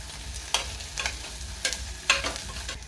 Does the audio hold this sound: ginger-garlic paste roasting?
yes